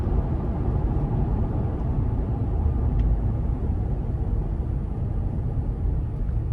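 Steady low rumble of tyre and road noise inside a 2019 Toyota 4Runner SR5 Premium on TRD off-road wheels, a continuous broadband drone heard from the cabin with no talking.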